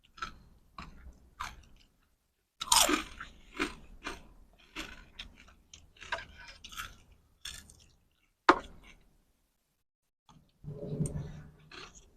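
Someone bites and chews crisp Chinese lettuce up close, with a string of sharp crunchy bites and chewing sounds and short pauses between, no talking.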